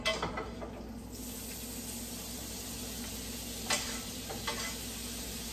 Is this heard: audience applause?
no